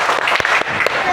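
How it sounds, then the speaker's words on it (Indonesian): Students in a classroom clap together in a short burst of loud group clapping, with a couple of sharper accented claps standing out, as at a teacher's call for an energizing cheer. "Kita buat tepuk semangat dulu."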